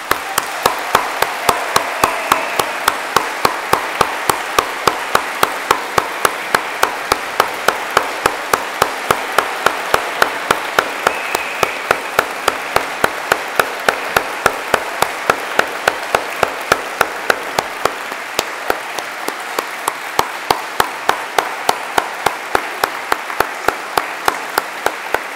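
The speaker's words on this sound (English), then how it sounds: "Let's have one more round of applause for the Scruffy City Orchestra." Audience applause for an orchestra inside a cathedral at a concert series, a steady dense roll of many hands clapping that runs loud and unbroken throughout, with no voices over it.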